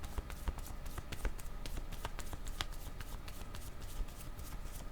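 Tarot cards being shuffled by hand in a steady run of riffling flicks and soft taps, close and continuous throughout, with no talking.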